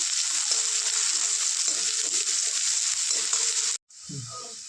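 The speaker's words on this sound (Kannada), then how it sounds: "ಎಣ್ಣೆ ಕಾದಿದೆ, ಈರುಳ್ಳಿ ಹಾಕ್ತೀನಿ" Sliced onion sizzles in hot oil, a loud, steady frying hiss that cuts off briefly before a quieter sizzle and stirring resume.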